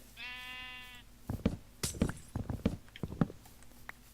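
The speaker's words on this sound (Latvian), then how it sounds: "Es atradu aitu." In a Minecraft game, a sheep gives a single short harmonic bleat at the start, followed by a run of sharp clicks and thuds from in-game actions.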